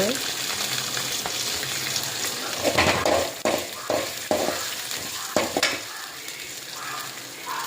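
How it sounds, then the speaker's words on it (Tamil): Black urad dal, ginger, garlic and ridge gourd sauté in a pan with a steady close sizzle, while a spoon scrapes and stirs in several distinct strokes that ease off toward the end. "இது நல்லா வதக்கணுங்க."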